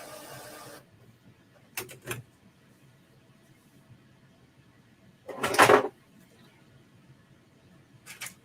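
A 7820 inkjet printer is opened up, with plastic clicks and snaps, a louder mechanical clatter of a panel or lid moving, then faint rustles and another click in a quiet room.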